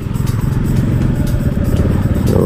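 Loud, steady engine drone of a Yamaha XSR 155 motorcycle on a test ride, close-up and continuous with a rough pulsing texture, no talking.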